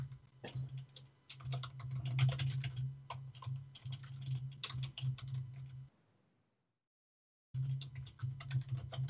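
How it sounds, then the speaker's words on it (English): Rapid clattering keystrokes on a loud computer keyboard, with an electrical hum underneath, fall silent for about a second and a half, then resume. "your keyboard's even louder than mine"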